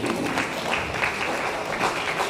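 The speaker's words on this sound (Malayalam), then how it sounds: "നല്ല കൈ കൊടുത്ത എല്ലാവരും ഇങ്ങനെയാണോ കൈയടിക്കുന്നത്?" Students in a career guidance class clap together in a steady, fairly soft patter of hands that fills the room continuously without pause.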